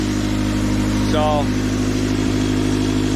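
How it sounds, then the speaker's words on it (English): Steady low exhaust hum from a running car engine just after a crankshaft pulley repair, droning continuously throughout with a brief tonal squeal partway through and someone talking over it. "that humming's the exhaust"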